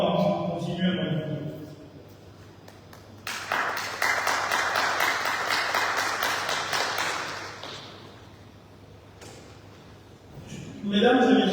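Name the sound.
audience applause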